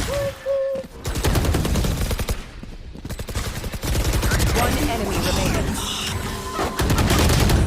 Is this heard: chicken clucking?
no